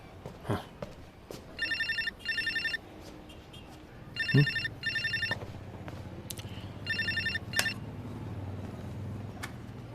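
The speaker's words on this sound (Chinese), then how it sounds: "齐长荣，你终于肯接电话了" A telephone ringtone sounds in short paired bursts of electronic ringing, repeated three times with pauses between, over a quiet indoor background with a few soft thumps and footsteps.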